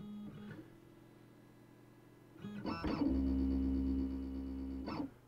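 A Shapeoko CNC machine homes after initialization, its stepper motors giving a steady whine that starts, pauses, then returns louder and more sustained for a couple of seconds before stopping abruptly, with no talk.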